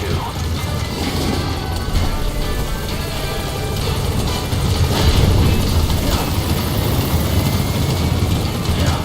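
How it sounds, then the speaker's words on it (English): The support helicopter arriving in the video game Metal Gear Solid V: a dense, rumbling rotor roar fills the whole stretch, steady and loud, swelling slightly in the middle as if drawing closer. "Support helicopter has arrived."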